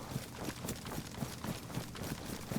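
A cow in the survival game DayZ, set on the Livonia map, plods along in steady, evenly spaced hoof thuds that repeat roughly twice a second under a continuous rustling ambient bed, fairly close and moderately loud.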